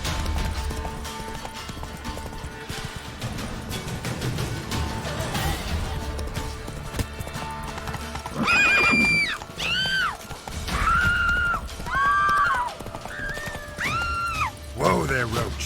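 Hooves of Roach, a horse in The Witcher 3, clip-clop steadily at a gallop, then loud whinnies and neighs rise in bursts over the hoofbeats, with a voice shouting briefly.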